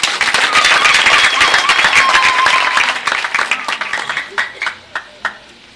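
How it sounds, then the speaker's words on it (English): A congregation at Ediofe Cathedral in Arua claps loudly to welcome guests during a priestly anniversary celebration, dense applause that thins into scattered, fading claps. "Can we from Arua clap to welcome them?"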